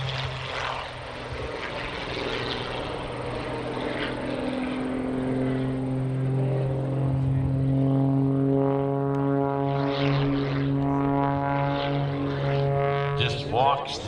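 A propeller aerobatic plane drones overhead at the New York International Air Show in Orange County, its engine pitch rising and falling steadily through rolls while a commentator talks over it.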